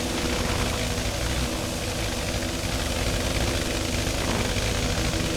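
WWI aircraft engines in the Wings Over Flanders Fields game run at a steady idle on the field at dawn, giving a dense and constant droning rumble that neither rises nor fades.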